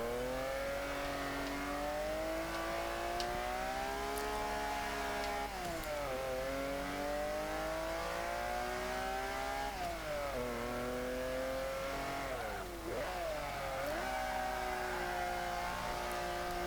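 A 1940 Ford De Luxe Coupe in the racing game Forza 5 revs its engine continuously, pitch climbing through gears and dropping at each shift, loud and steady with no talk.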